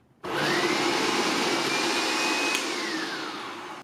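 A Hamilton Beach Stack and Snap food processor slicing green peppers whirs up sharply into a loud, steady motor drone with a rising then falling whine, then tapers off near the end.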